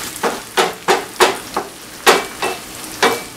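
Beans cook in a pan with a soft sizzle, broken by about eight sharp, evenly spaced knocks of a utensil against the pan, close and clear.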